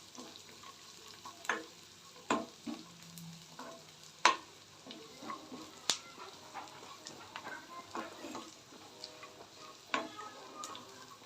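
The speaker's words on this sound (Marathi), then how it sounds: "शेंगदाणे टाकून घेते जेणेकरून शेंगदाणे पण आपले भाजले पण जातील आणि तळले पण जातील" Peanuts fry in hot oil for upma, a soft continuous sizzle broken by sharp clicks and scrapes of a spoon stirring in the pan, fairly quiet and close, with no voices.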